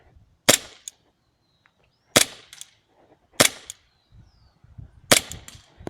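A gold-plated We-Tech M9 airsoft gas blowback pistol fires four sharp, loud cracks spaced about a second apart outdoors, each a crisp pop with a brief metallic snap of the slide.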